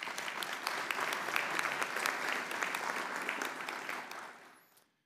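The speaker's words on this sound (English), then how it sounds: "Please give her a warm round of applause." A crowd at a city meeting's police and fire awards ceremony gives an honoree a warm round of applause, steady and full for several seconds before tapering off and fading out near the end.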